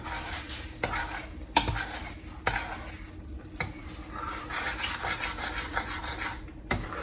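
A utensil steadily scrapes and stirs eggs along the bottom of a hot pan, a continuous close rasping with a faint sizzle underneath and a few sharper knocks against the pan, with no talking.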